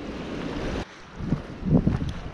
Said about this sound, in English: because it's quite windy here